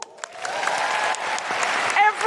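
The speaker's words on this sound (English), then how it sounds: "I just want to say a huge round of applause to everyone here at Hamer Hall." A large audience in Hamer Hall, Melbourne, applauds at a live show, the dense clapping rising after a brief start and continuing strongly with sharp individual claps near the end.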